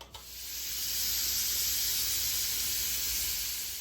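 Chopped tomatoes fry in a hot pan in a home kitchen, giving off a steady, fairly loud sizzling hiss that builds after a brief start and holds evenly throughout with no voices.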